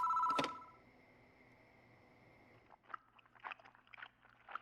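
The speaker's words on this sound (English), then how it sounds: "I hear a noise like someone chewing gum from the other end of the phone." In the horror game Spirit Hunter: Death Mark, a phone ring cuts off, and after a hush faint, wet, irregular chewing noises crackle over the line.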